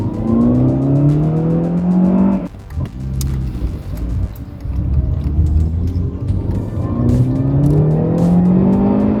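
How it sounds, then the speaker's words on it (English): An original Mercedes 190E Evo homologation special driven on a road, its engine loud and close as it revs through rising gears, briefly backing off before pulling hard again, with no talk. "The thing about driving this car is it kind of feels like you're just driving a normal Mercedes 190e"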